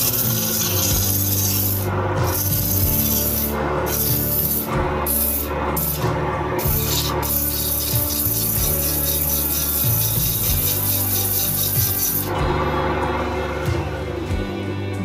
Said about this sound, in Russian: Здесь я попробовал шлифовать.